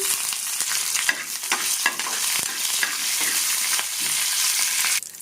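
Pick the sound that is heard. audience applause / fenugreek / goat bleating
fenugreek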